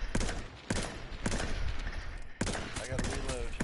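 Heavy gunfire in the H1Z1 battle royale game, with rapid sustained bursts and several sharp loud shots, some of them near, and a player talking over the shooting.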